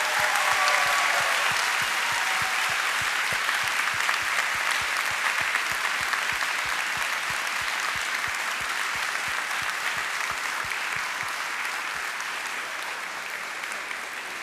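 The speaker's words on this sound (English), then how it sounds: "One last round of applause for Class 79." An audience at a Class 79 BLET graduation ceremony gives the graduating class a final round of applause, a sustained wash of many hands clapping steadily that slowly fades toward the end.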